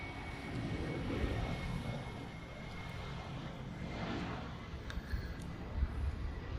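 A UPS Boeing 747 cargo plane arriving at an airport in Hawaii, a distant, steady jet engine roar with faint broadband rush, quiet and continuous without speech.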